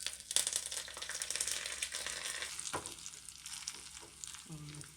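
Tempering seeds fry in a shallow pour of oil for a vegetable pulusu, giving a steady crackling sizzle with a few sharp pops and a stir-like scrape toward the end, close and with no talking.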